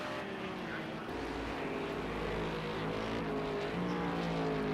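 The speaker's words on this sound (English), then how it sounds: "there's Commander Jim, the Aston Martin. Big throaty V8, listen to it" Aston Martin V8 race car in a sim racing endurance event, a steady throaty engine drone holding continuously at close range with rising intensity toward the end.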